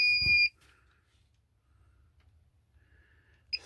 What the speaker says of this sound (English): I'm going to try to turn it on and see what it does now. See if it still beeps.